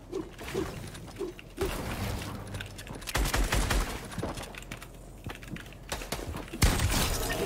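Gunfire in a video game arena match, with several sharp bursts and shots scattered across a busy, noisy mix, some fairly loud and close, others further back among mechanical clatter.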